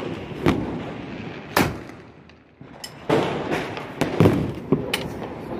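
Diwali firecrackers burst in a series of sharp, loud bangs with crackling tails, some close and some farther off, over a noisy festive rooftop background with no talk.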